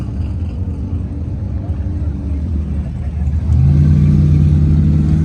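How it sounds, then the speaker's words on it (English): At a boosted car cruise event, a supercharged Corvette's engine rumbles steadily nearby, then surges louder into a higher, sustained rev partway through. "Here we got a Corvette with a blower."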